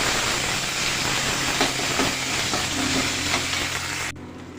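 Chickpeas fry with a spoonful of ginger garlic paste while being stirred in a pan for a masala chana snack: a loud, dense, steady sizzle with scraping stir strokes throughout, dropping away abruptly near the end.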